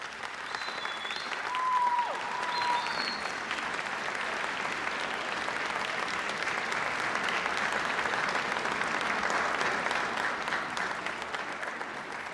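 Graduates at a university convocation ceremony applauding their family and friends, a sustained wash of clapping from a large crowd in a hall, swelling after the first couple of seconds and holding steady to the end.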